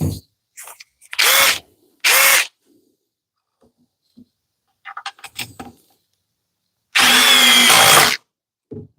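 DeWalt DCF860 impact driver running in short bursts: three loud bursts of driving, with some light clatter between them and a final longer burst, heard close with no talk.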